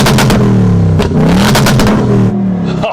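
A Ford Mustang revs hard in race mode with track-only exhaust, loud and close, the engine roaring in several rising bursts with brief dips between them.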